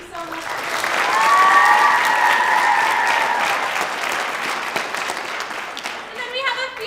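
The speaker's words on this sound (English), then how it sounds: "We also would like to give a huge round of applause to Jeremy" An audience applauds at a Missoula community theater performance of The Wizard of Oz, the clapping swelling to a loud sustained peak and then tapering, with some voices mixed in and a brief spoken phrase at the end.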